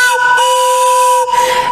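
A loud steam train whistle blows one sustained, steady tone, breaks briefly, then sounds again, close and piercing.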